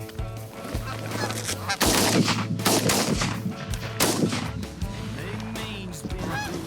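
Geese honk repeatedly during a September goose hunt in Michigan, with a few sharp gunshots cracking out among the calls at moderate distance.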